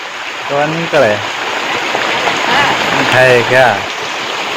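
Heavy afternoon rain pours down in a village in Botad, a dense steady hiss of falling water, loud and continuous, with someone talking over it.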